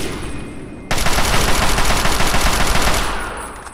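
A loud, rapid burst of automatic gunfire from the Fallout 3 video game rattles continuously for about two seconds after a short lead-in, close and dense, then tails off.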